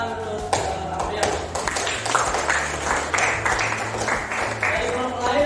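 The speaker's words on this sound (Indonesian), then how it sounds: "Oke, kasih tepuk tangan untuk Aprian." Scattered hand claps from a small classroom audience applauding a student presenter during a school coaching session, a few light irregular taps under ongoing room noise and voices.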